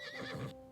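A horse in the Star Stable Online video game gives one short, clear whinny, heard alone and close.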